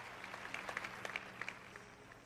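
A church audience at a sermon gives a faint, thin scattering of claps, a few uneven hand strikes popping above a quiet room background before it dies away.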